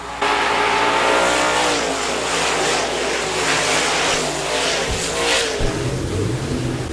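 Stock cars racing under green flag at Park Jefferson Speedway, a loud, sustained roar of several engines revving and passing, with pitch shifts as cars sweep by and no voices over it.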